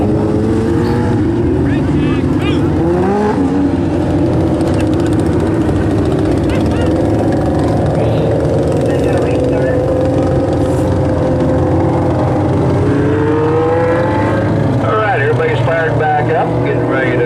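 Racing boat engines droning loud and steady as the boats crank back up for a race restart, several motors layered and rising and falling in pitch, with a commentator talking over them.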